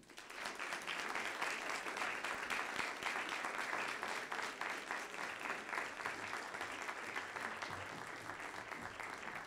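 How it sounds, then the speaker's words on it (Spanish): An audience claps steadily in sustained applause, a dense patter of many hands that carries on for several seconds before tapering slightly. "Emma de Yanira Montemayor Garza, les pido un fuerte y cariñoso aplauso."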